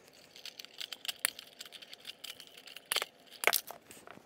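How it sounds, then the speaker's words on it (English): Electrical outlet wires being cut off, a series of sharp close snips and crunchy clicks at irregular intervals, the loudest near the end, with no talking. "I'm just going to cut the wires off"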